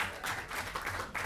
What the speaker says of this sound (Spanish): entregamos un caluroso aplauso a todo el equipo de la Escuela de Cuidadores